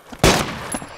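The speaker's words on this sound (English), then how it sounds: "Stop shooting that damn gun!" A single close gunshot in the DayZ video game, one sharp loud crack followed by a brief decaying tail.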